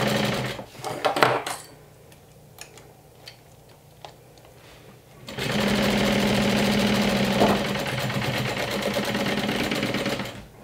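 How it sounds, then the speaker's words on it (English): A sewing machine stitches through a layered fabric sandwich for a Haunted Mansion–style crossbody bag. Scattered handling taps and clicks come first, then the motor starts a loud, steady, rapid whirring run that lasts about five seconds. "sew through the little sandwich. From one end to the other."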